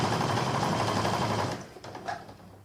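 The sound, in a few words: sewing machine stitching straight seam along quilt edge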